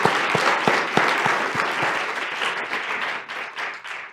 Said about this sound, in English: So parents, give yourselves a round of applause